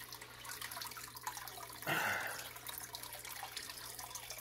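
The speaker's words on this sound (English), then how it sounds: "Now that I pulled the filter out a bit. The water flow has gotten better." Water flowing through a partly pulled-out, clogged fish tank filter: a low steady trickle that swells into a louder gush of splashing midway, then settles back to a constant running flow.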